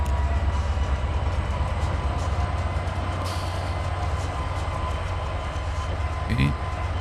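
An SD80 locomotive running in Trainz 2022, a steady low rumbling engine drone with continuous rolling noise and a brief clatter near the end, heard alongside a voice talking.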